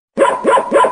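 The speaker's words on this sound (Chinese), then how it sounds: "小狗怎么叫？" A dog barks three times in quick, even succession, loud and close, after a brief silence.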